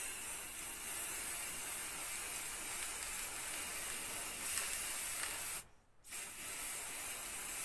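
Aerosol spray paint can hissing steadily while coating dried hydrangea flowers, a close continuous spray that cuts off briefly near the end, then resumes.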